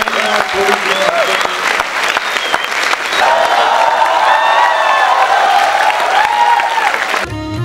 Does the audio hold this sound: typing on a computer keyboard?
no